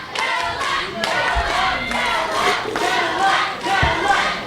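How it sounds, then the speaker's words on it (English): A wrestling crowd at the Riverside Elks Lodge cheers and shouts loudly and steadily, with scattered clapping and occasional thuds from the ring underneath the roar. "There you hear the crowd cheering for Chris Kadillak."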